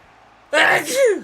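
A single sudden sneeze, loud and close, with a sharp breathy burst followed by a falling voiced tail, over faint background sound.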